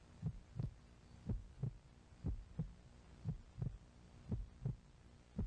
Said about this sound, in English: The heartbeat is hilarious.